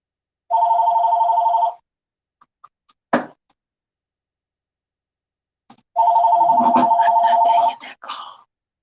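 A telephone rings for an incoming call in two bursts of electronic trilling, with a few knocks and clicks between them and some clatter over the second ring.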